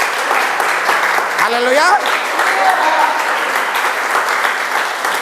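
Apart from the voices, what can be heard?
congregation applauding and cheering for God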